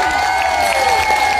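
An audience applauds at a mini concert in Thailand, with a dense, loud, continuous wash of clapping and cheering under a sustained tonal sound.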